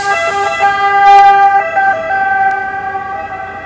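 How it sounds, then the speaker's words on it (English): An emergency vehicle siren wails loudly nearby on a street in Rome, its shifting tones rising and falling over the hum of road traffic. "sirens."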